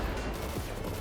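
A grenade explosion in Cyberpunk 2077, the Ozob grenade, lets out a dense, loud roaring blast that fills the whole moment with rumbling noise and no clear break.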